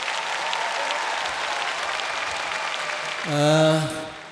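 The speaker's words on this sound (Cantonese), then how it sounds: "俾多啲掌聲佢" Applause from a concert audience at a reunion show, a steady sustained clapping wash that swells near the end as a loud tonal cheer or note rises over it.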